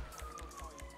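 A police siren in the GTA 5 video game wails steadily at low level, with a rhythmic pulsing under it, brief and alone.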